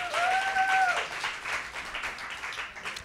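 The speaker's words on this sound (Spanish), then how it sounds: "Aplauso para Juancito, terminamos la pregunta shot." A short burst of applause and clapping from a small group, with a brief whistle-like tone at the start.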